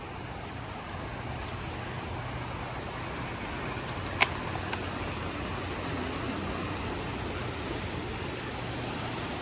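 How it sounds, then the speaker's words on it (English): A steady, hissing rush of flowing creek water continues evenly throughout, moderately distant, with a single faint click partway through. "listen to the sound of the creek."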